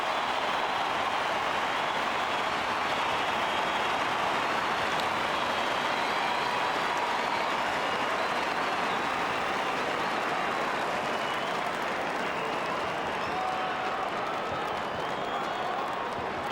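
A stadium crowd roars after a Port Adelaide goal in the 2004 AFL Preliminary Final against St Kilda, a dense, loud, continuous wash of cheering and clapping that holds steady throughout.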